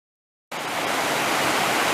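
A waterfall on Mill Prong Creek in Shenandoah National Park bursts in after a half-second of silence, a steady, loud, broadband rush of falling water that carries on unbroken.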